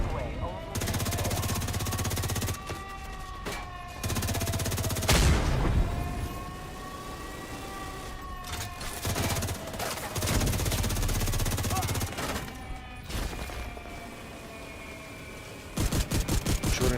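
Gunfire from the raid team shooting at a rocket in The Division 2's Iron Horse raid: several loud, sustained bursts of shooting with deep booming undertones, separated by short lulls, over a steady game soundscape.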